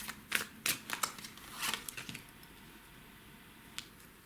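Tarot cards are laid out on a table, giving a quick burst of soft slaps and flicks near the start followed by a single isolated card tap, close and quiet with no talk.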